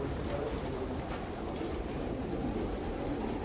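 Homing pigeons in a loft, with soft cooing under a steady hiss of ambient noise, faint and continuous with no one speaking.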